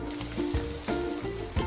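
Garlic, green chilli and onion fry in hot coconut oil with a loud, close sizzle, a rough hiss pulsing with a few quick stirring scrapes.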